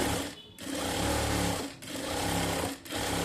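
A sewing machine runs in three long loud bursts, stitching large tacking stitches along the middle of a piece of fabric, each run separated by a brief pause.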